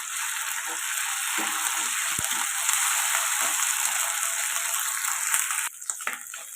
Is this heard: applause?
no